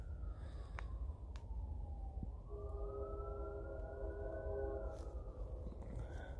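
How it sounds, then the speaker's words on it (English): A distant siren wails and slowly sweeps in pitch over a constant low rumble, joined midway by a steady multi-tone horn like a train horn, heard from an abandoned rail hump yard. "I wonder if that's the actual train or the vehicle with the siren with the train horn"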